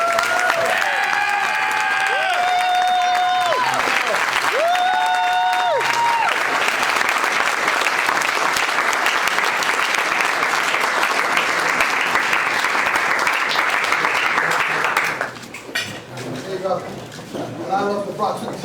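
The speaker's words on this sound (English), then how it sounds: "Let's hear it for Gonzalo Duran." Sustained loud audience applause with scattered cheering for a military veteran at a Bronx Chamber of Commerce salute to veterans, with brief sung or vocal tones early on and the clapping thinning out near the end.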